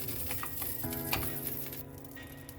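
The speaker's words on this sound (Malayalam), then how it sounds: "നമുക്കിതിന് ആവശ്യമായിട്ടൊരു പാൻ വെച്ച് 2 സ്പൂണ് നെയ്യ് ചേർത്ത് കൊടുക്കുക" Ghee sizzles and patters softly in a heated pan for mutton biryani, a steady faint crackle with light ticks and background hum, no voices.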